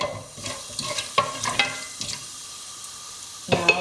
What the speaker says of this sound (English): add the whole spices. Stir this around for about 10 seconds or so.